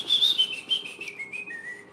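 A person whistles a wavering, playful tune in short phrases that slide between notes, close and fairly loud, alone with no talk over it.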